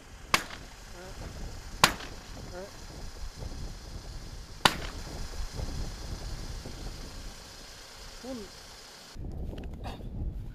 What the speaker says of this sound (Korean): 또다시 이어지는 총소리.